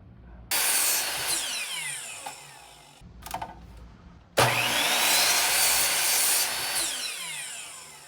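Power saw making 15-degree beveled cuts through cedar fence pickets: two loud, close whining cuts, each starting abruptly and running a few seconds, separated by a brief lull with a short clatter.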